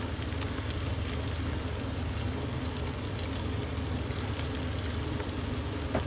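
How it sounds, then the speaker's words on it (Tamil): Ginger-garlic paste and mint leaves sautéing in a pan for chicken biryani, a dense steady sizzle and crackle heard close up, with no voices. "நல்லா வதக்கணும்"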